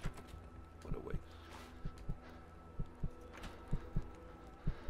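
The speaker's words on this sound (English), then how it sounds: "Why is my heartbeat suddenly coming up?" A heartbeat throbs in the video game Kona, low, evenly spaced double thumps repeating steadily over a faint humming ambience, with no talking.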